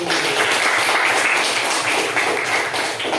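Classroom applause, a quick burst of students clapping together, fairly loud and close, filling the short moment with dense steady claps and no talk.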